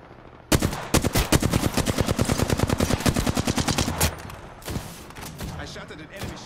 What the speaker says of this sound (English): I shot at an enemy shield.